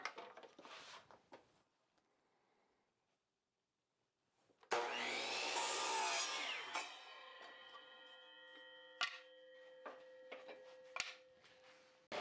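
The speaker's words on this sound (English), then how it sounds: "I'm going to use the miter saw to cut these 10-degree angles because it's quick and easy" A miter saw cutting 10-degree angles in wood for a small napkin holder, a loud broadband whine rising in the middle of the clip after a quiet gap, followed by lingering motor hum and a few sharp clicks.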